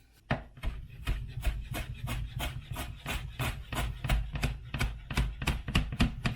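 A knife chops parsley on a cutting board in a fast, steady run of crisp, close taps, about three strikes a second, with no voices.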